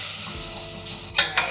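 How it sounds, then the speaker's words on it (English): Flour cooking in butter for bourbon bacon mac and cheese, bourbon just added and stirred: a steady close sizzle with soft stirring, ending in two brief sharp scrapes of a utensil against the pan, no talk. "We just wanna cook that flour just a little bit first with the butter."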